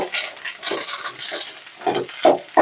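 Curry leaves fry in a pan, giving a soft sizzle broken by quick, irregular scraping bursts as they are stirred close by.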